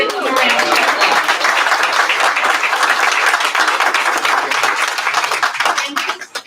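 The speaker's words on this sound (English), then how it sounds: "So let's give them a round of applause." Audience applause at a city council meeting in Troy, loud and sustained dense clapping from a crowd in an indoor chamber, fading out near the end.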